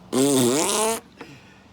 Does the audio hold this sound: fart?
yes